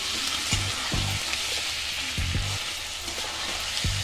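Two chopped tomatoes fry in a hot pan for ghugni, giving a steady, dense sizzle broken by several sharp scrapes and knocks as they are stirred.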